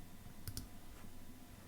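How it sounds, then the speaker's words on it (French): Single computer mouse click pressing Start Encode while setting up a holographic fan display, a quick double tick heard close and faint over quiet room hiss. "Donc je clique sur Start Encode."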